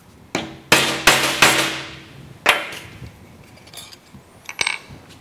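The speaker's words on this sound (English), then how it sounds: "we are going to be using a scrap chunk of wood, the nail that we were previously using, and a hammer" A hammer drives a nail through sheet metal resting on a scrap chunk of wood, giving a handful of sharp, ringing metallic strikes close by, several in quick succession and then a few scattered lighter taps, with no talking.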